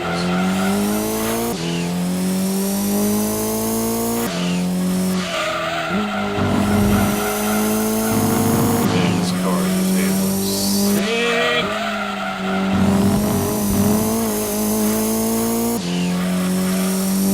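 A race car in the Gran Turismo 2 video game spins out, with repeated loud tire squeals and skidding over a droning, revving engine, swelling and breaking off in waves throughout.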